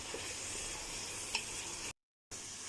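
Minced lamb stirred with red wine in a hot pan, giving a steady sizzle and faint scraping from the stirring, close and constant with a brief drop to silence near the end.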